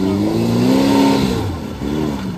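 A carbureted off-road car with military axles and no hard locks revs hard, loud and close, in a trophy sprint race on hot, dry ground. The engine note climbs and then dips before rising again.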